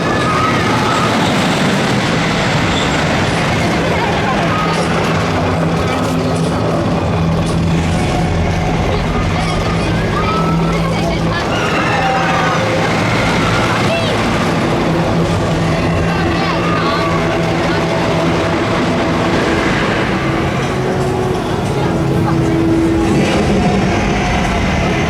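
The Wicker Man wooden roller coaster at Alton Towers at night makes a steady, dense roar and rumble heard from off-ride, with crowd chatter and a continuous background din throughout.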